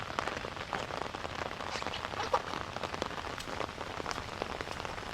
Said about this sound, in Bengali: দেখি বৃষ্টি আর বৃষ্টি